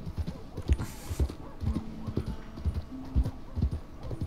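Horse hooves clip-clop on the ground in Red Dead Redemption 2, a steady walking rhythm of close, distinct knocks with a brief whinny-like tone in the middle.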